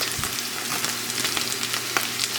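Tortillas fry in olive oil for migas, making a soft continuous sizzle with scattered small pops and crackles, no talk over it.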